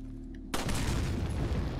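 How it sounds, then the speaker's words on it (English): A loud explosion in the Resident Evil 4 village bursts in suddenly after a quiet moment, then rumbles on as a dense, sustained roar with crackling debris, with no talk over it. "explosion."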